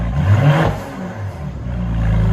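A turbocharged SUV engine with straight-piped exhaust revs hard with a deep, throaty roar that peaks early, turbo audible, then settles into a steady, loud idle rumble.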